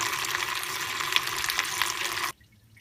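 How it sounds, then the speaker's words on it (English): Engine coolant from a Jeep Liberty 3.7 V6 pouring steadily into a container, a close continuous splashing trickle that stops abruptly near the end. "so the coolant's draining"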